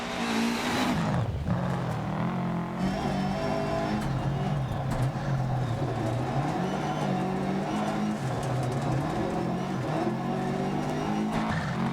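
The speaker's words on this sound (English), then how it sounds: "Most of you will be familiar with this Welsh stage that we are driving through from Dirt Rally 1 and the Dirt Rally 2 base game" Rally car tearing along a Welsh forest stage in DiRT Rally, engine roaring loud and close with rising and falling revs, gear shifts and occasional gravel skids, no voices.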